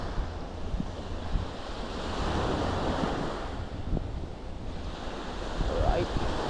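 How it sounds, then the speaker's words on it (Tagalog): Strong wind gusts across a microphone on a beach at Calatagan, Batangas, with a constant low roar over surf washing in close by. The wind rises and falls gently throughout. "Wow, lakas ng hangin."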